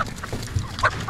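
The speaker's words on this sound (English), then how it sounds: "Chickens!" Chickens clucking nearby in short, scattered bursts, a few birds calling over one another.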